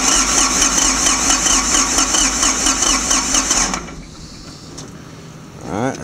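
A Ford 1710 tractor's diesel engine runs with a loud, rhythmic clatter for a few seconds and then cuts out abruptly, leaving quieter background sounds and a short rising squeal at the end.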